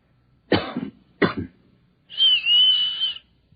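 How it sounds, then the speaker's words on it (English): Two short, dry coughs close together, then a steady high whistle held for about a second, all close and clear against near silence. "I'll cough twice, like this. And you whistle back."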